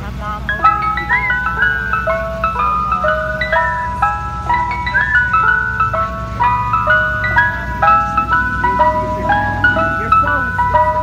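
Mister Softee ice cream truck chiming its tinkling melodic jingle, a steady, loud repeating tune that plays continuously over a low rumbling engine hum.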